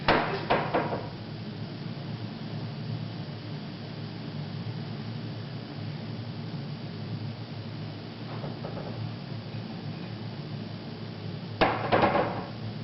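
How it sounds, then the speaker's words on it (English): A door bangs shut in a quiet room at the end, a sharp loud impact with brief rattle, preceded by an earlier similar knock at the start and a faint thud midway against steady background hiss. "whatever entity opened the door closed it shut with a loud bang"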